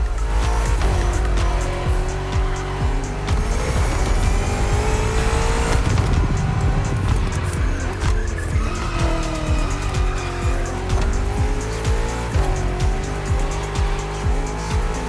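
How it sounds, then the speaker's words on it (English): BMW M CS cars race through traffic on open roads in The Crew Motorfest, engines droning and revving steadily while tires squeal and skid repeatedly, loud and continuous with no talking. "We're putting 3 BMW MCS to the test over very long distances, and it's your job to drive them one after the other."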